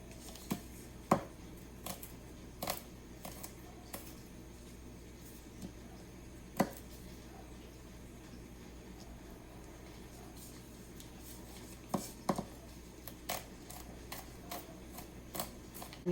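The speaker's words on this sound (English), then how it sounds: "get these guys peeled up and get them chopped up and ready to go" Peeled vegetables are chopped with a knife on a cutting board in a home kitchen while making fettuccine Alfredo: scattered sharp taps, some single and some in quick pairs, close up and fairly quiet, with no talking.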